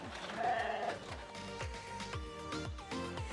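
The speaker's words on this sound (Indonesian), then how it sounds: "Sekarang saya mau lanjut kasih makan kambing-kambing ini dulu ya." Several goats bleating repeatedly while being fed, overlapping calls close by, some wavering and drawn out, with a low background hum.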